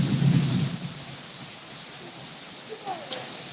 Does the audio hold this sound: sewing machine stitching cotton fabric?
no